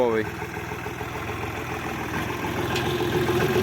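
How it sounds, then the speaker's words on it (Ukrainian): A Dongfeng 240 tractor's small three-cylinder diesel engine idles with a steady, low rhythmic chug throughout, close by, with a voice speaking over it. "Трьохциліндровий мотор."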